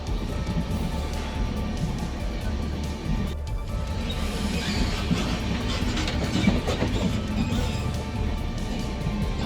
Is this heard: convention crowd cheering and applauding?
no